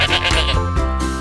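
A goat gives a single loud, wavering bleat close by, quavering briefly, with no one speaking.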